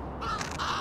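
A crow caws in the video game Little Kitty, Big City, one short harsh call standing alone against a steady ambient bed.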